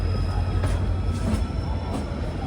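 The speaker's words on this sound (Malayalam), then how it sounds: "ട്രെയിൻ ഇപ്പോൾ ഇതാ വിശാഖപട്ടണം ജംഗ്ഷനിലേക്ക് എത്തുകയാണ്" Gurudev Express rolling into Visakhapatnam Junction, a loud continuous rumble of railcars close by with rhythmic wheel clatter and thin metallic squeals over it.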